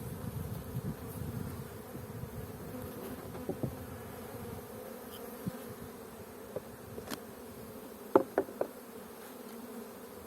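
A bee hums steadily close by in a low continuous drone, with a few faint clicks and taps scattered over it and no voices.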